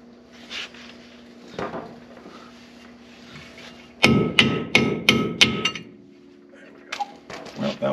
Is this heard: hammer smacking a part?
yes